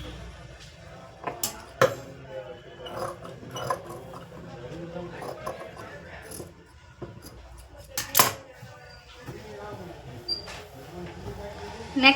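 Scissors snip blouse fabric for piping in short, close clicks and crisp cuts spaced unevenly, with faint handling rustle between them in a quiet room.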